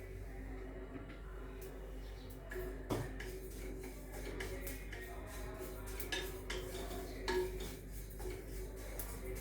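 Sesame seeds and curry leaves roasting in a pan for a chutney, giving scattered sharp crackles and pops over a steady low kitchen hum, with no talking.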